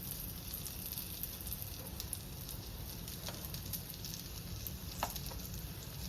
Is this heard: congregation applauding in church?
no